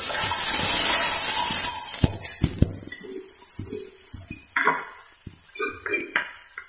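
Onion, ginger, garlic and green chili sizzle in hot oil for a cabbage stir-fry, a dense steady hiss at first that thins into scattered crackles and pan clinks, fairly close.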